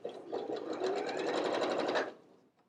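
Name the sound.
sewing machine stitching two layers of tissue knit fabric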